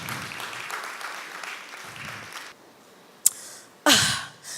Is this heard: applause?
yes